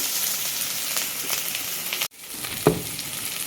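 Steady loud sizzling and crackling of chopped onions and tamarind sautéing in oil in a kadai, with a brief cut in the sound and a small clink near the end.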